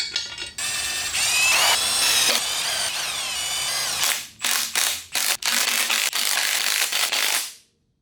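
A ratchet cranking as cylinder head bolts are torqued down on a turbocharged LS truck engine, rapid clicking strokes in several close, loud bursts separated by short pauses, no talking.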